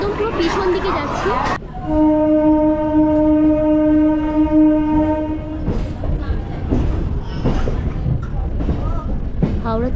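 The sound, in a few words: local train departing from Howrah station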